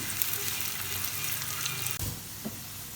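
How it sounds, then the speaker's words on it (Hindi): Finely chopped onions fry in hot oil, a continuous close sizzle with light crackle, broken near the end by a brief stir or clink. "यहाँ ऑयल को किया गरम, इसमें बारीक सा प्याज हमने कट की है, इसको हम फ्राई करेंगे"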